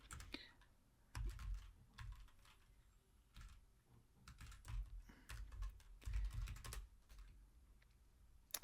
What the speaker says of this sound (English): I'm going to type sudo DNF and I'm going to install a library for